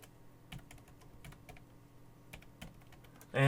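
Keys on a computer keyboard are tapped in quick, irregular clicks, close and fairly soft, ending with a brief louder noise.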